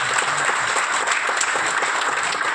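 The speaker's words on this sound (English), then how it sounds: "please give a round of applause" Steady, dense applause from an audience at a club event, clapping evenly and fairly close with no break across the whole stretch.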